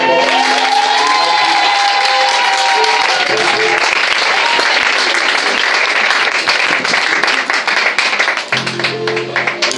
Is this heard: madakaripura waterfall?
no